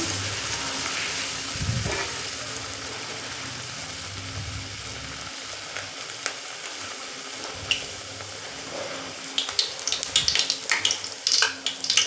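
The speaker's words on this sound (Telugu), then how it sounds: "ఇప్పుడు ఇలా తీసుకొని వేడైన ఆయిల్లో వేసుకోవాలి" Jaggery appalu dough fries in hot oil, a soft, steady sizzle with bubbling, joined later by louder crackling pops and light clatter from the pan.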